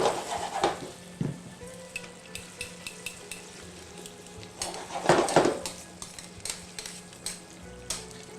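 Italian sausage simmering in a pan, a low steady bubbling sizzle broken by a few louder stirs and clinks of a utensil against the pan, close and moderately quiet.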